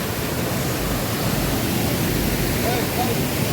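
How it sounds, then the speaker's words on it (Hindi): Banjhakri waterfall near Gangtok, Sikkim, heard up close as a dense, even rush of falling water, a steady broadband roar with no breaks. "ये बन झाकरी वाटरफॉल से हम लोग पूरा पास आ चुके हैं"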